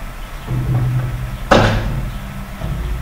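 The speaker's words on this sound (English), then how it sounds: "That's my door, sorry." Door pushed shut in a room, a single sharp thud near the middle against low room noise and hum, with no speech.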